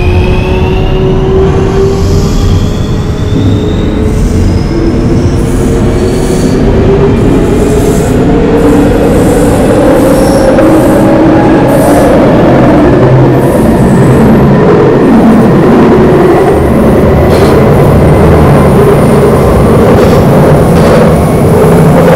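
London Underground train running between stations on the Neasden to Charing Cross route, a loud continuous rumble of wheels on track with rising pitch tones from the motors and faint squeals, steady throughout with no talk.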